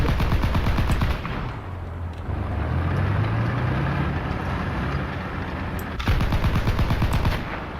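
Rapid bursts of machine-gun fire and cannon shots from a tank battle in the War Thunder video game, loud and close, with a quieter stretch of rumbling engine noise between the firing.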